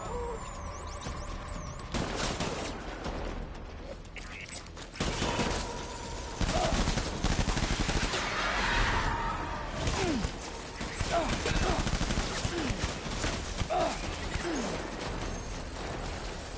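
Rapid bursts of gunfire erupt after a command to open fire, sharp repeated shots and volleys crackling loudly over several seconds, with a voice heard early on.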